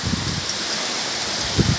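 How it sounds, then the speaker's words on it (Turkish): Heavy rain pours steadily in Eskişehir, Turkey, in a dense, loud hiss, with a few heavier splashes and low thumps now and then. "Afat bu vallahi böyle yağmur hiç görmedim ben ya Rabbim."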